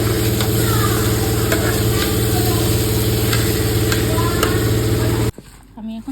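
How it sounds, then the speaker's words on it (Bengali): Spiced vegetables with salt, sugar, turmeric, ginger and vegetable masala being sautéed in a pan, a loud continuous sizzle with light scraping stir strokes that cuts off abruptly near the end. "এবার এটা ভালো করে কষিয়ে নেব"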